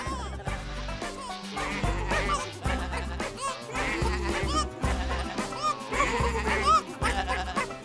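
Sheep bleat in short wavering calls in a cartoon animal parade, over steady background music with a thumping bass line.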